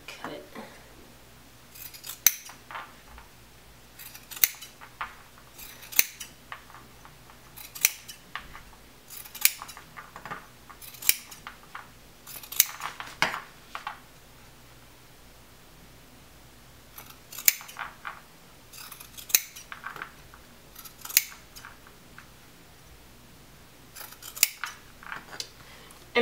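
Scissors snip through denim jeans in repeated bursts of sharp, crisp cuts, close and moderately loud, arriving in irregular clusters with short pauses between them, with no voices.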